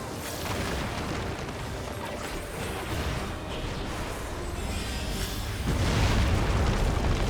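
Explosions in the video game Final Fantasy XIV: Dawntrail, a dense roaring boom with rumbling blasts that swells louder near the end, continuous and close.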